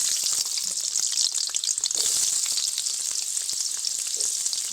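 Potato pieces seasoned with salt and turmeric fry in a good amount of white oil in a kadai, giving a steady, loud, close sizzle with crackling pops throughout and occasional stirring, with no talking.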